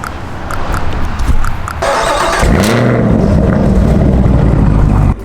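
A modified Nissan 350Z engine fires up and idles loudly, a low, throaty exhaust rumble steady and close after an initial burst of starter noise and a rising rev.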